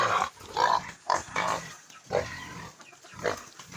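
A boar on a backyard pig farm at feeding time, giving loud, close grunts and snorting oinks in repeated bursts with short pauses between them.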